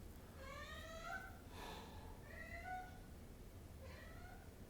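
Three drawn-out cat meows, evenly spaced over a steady low background hum, fairly close and clear.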